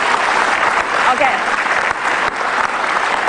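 Studio audience applause on an Indonesian talk show, loud dense clapping filling the stretch, with a brief spoken word from a host on top.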